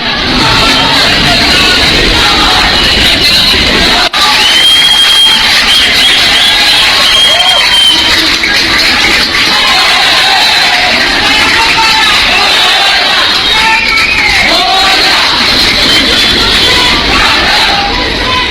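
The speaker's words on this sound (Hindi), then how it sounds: "चंद्रयान चांद पर उतरा, उसके बाद अंधेरी में भीड़ देखिए और लोगों का रिएक्शन सुनिए" A large crowd in Andheri, Mumbai cheers the Chandrayaan-3 moon landing, a loud, dense roar of yelling and whooping voices that holds steady at close range, with shouts rising above the din.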